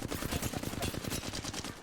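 Rapid automatic gunfire in the Apex Legends video game, a dense fast rattle of shots sustained loud and close for about two seconds with no talking.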